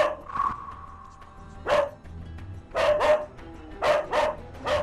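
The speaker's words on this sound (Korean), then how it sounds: "보호자가 눈을 마주치지 않자 더욱 맹렬히 짖는 희망이." A highly overexcited dog barks fiercely and repeatedly indoors, sharp loud barks in irregular bursts with short pauses between, close by and with no talking over them.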